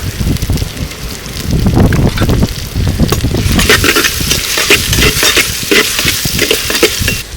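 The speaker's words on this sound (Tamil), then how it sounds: "தக்காளிக்கு முன்னால் நத்தையை போட்டு எண்ணெயில் வேக வைக்க போகிறோம்" Village-style snails sizzling and frying in hot oil in a pan as they are stirred, with a steady loud crackle and scraping stir strokes throughout, no voices.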